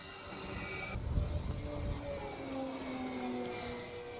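A small Mark II airplane with big wheels and wing struts makes a very low pass. Its engine drone rises briefly, then falls in pitch as it goes by, over a constant wash of wind noise.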